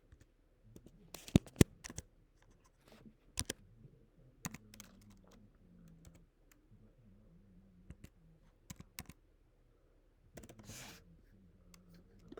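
Someone types a discount code on a computer keyboard, with scattered quick key clicks, a few sharp clustered taps and pauses between them, close and fairly quiet over a faint hum.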